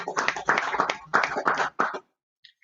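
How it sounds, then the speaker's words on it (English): A small audience at hackathon final presentations claps for a team in a few uneven bursts of hand claps, close and crisp, then stops abruptly into near silence. "let's have one more round of applause."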